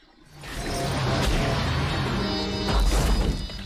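Car smashing into a house in the 1988 action film Action Jackson, a loud sustained crash of splintering wood and breaking glass with a heavy impact near the end, no talk over it.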